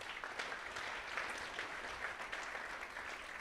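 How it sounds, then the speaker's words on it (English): An audience at an investment summit finale night applauds steadily, a dense, even wash of clapping from many hands heard at a distance with no talk over it. "So give a round of applause."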